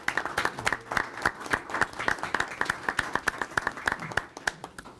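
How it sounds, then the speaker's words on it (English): Audience applause at a county commissioners meeting in Lackawanna County: a modest group claps in a quick, uneven patter of distinct hand claps, fairly close and fading slightly near the end. "So I just think you deserve a round of applause for everything that you've done."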